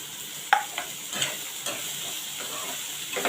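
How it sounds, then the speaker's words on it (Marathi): Chopped onion and curry leaves frying in oil, a constant close sizzle with a few scraping stirs of a spoon against the pan at irregular intervals. "कढीपत्ता आणि कांदा आपण चांगला परतून घेऊया कांदा चांगला मऊ होईपर्यंत चांगला भाजून घेऊया"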